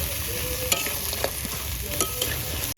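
Crabs stir-fried in a spice masala gravy, a dense close sizzle with repeated sharp spatula scrapes and knocks against the pan, steady and fairly loud.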